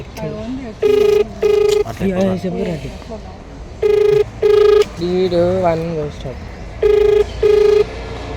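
An unanswered phone call rings out as a repeating pair of electronic ring tones, heard three times at steady intervals, with a recorded voice message speaking between the rings.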